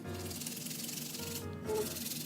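A makeup brush being scrubbed during cleaning gives a continuous soft, close rubbing and scratching texture, steady and fairly quiet, with a brief lull midway, no talk.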